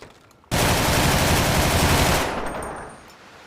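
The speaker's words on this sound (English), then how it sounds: "Next, we have the special carbine." A special carbine from a FiveM GTA sound pack fires a rapid automatic burst, starting abruptly and roaring loudly for about two seconds before trailing off into a fading echo.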